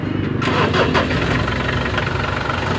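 A car with an automatic transmission and a faulty temperature sending unit cranks and catches, then settles into a steady, close, loud idle with no one talking.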